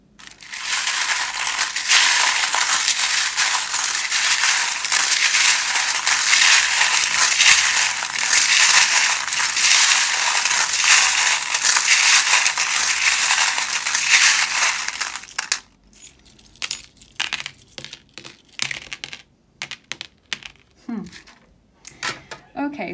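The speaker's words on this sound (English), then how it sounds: "you don't like the sound of the charms" Metal tarot charms and dice rattle loudly and continuously as they are shuffled, a dense jangling clatter lasting about fifteen seconds before giving way to quieter scattered clicks and taps.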